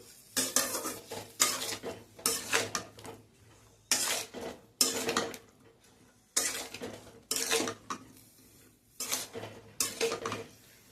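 A utensil stirs ridge gourd, potato and drumstick poppy-seed curry in a pan, producing bursts of scraping and clinking in repeated rhythmic stretches with brief pauses and soft sizzling between.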